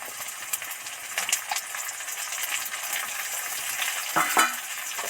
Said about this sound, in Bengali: এবার এর মধ্যে টমেটো কুচি আর লঙ্কা কুচিটা দিয়ে দেব